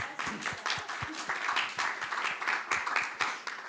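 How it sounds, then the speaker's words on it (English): An audience gives a round of applause, with distinct claps from a smallish group landing in an uneven rhythm, moderately close and unbroken by talk. "I think that deserves a first big round of applause for you."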